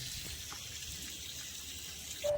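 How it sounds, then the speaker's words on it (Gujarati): Water from a borewell pump rushes out in a steady, unbroken gush, a fairly quiet continuous splashing flow with no voices. "પાણી સારામાં સારું આવ્યું"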